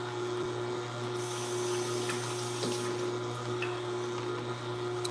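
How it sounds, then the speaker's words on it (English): Tap water running steadily into a sink while hands are rinsed in a kitchen, a constant close splashing rush with a low hum from a nearby machine underneath, and a few faint knocks. "let me rinse my hands while that's finishing up"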